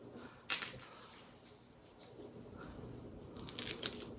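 A plastic seed-starting container being cut open for winter sowing, with two short bursts of crisp snipping and crunching separated by a quiet stretch, close and fairly soft.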